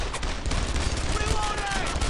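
Covering fire in the WWII shooter Brothers in Arms: Earned in Blood, as dense, continuous gunfire from several weapons in a close, loud barrage lasting the whole stretch.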